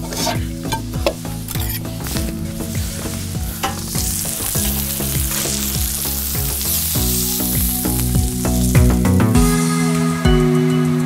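Food sizzles steadily in a hot oiled pan, black chanterelles with apples frying, while a utensil stirs and scrapes, with music playing softly underneath.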